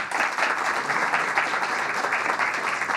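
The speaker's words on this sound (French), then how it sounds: "On peut l'applaudir bien fort, c'était notre invité." Studio audience applauding a departing guest on a French talk show, a continuous, lively round of clapping with no voices over it.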